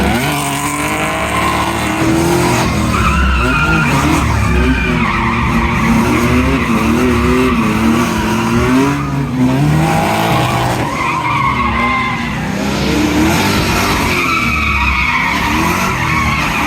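Car drifting at the Summernats 36 car festival, with long, loud tyre squeals layered over a roaring, revving engine, continuous and close for the whole stretch as the wheels spin and slide.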